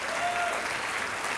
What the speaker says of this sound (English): we have got a round of applause for all of the comedians you see up